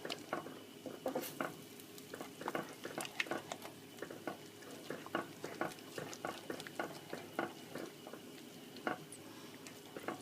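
Thick croquette sauce being stirred in a pan over medium heat, seasoned with pepper, giving steady soft wet patters and spoon clicks in an uneven rhythm, close and fairly quiet.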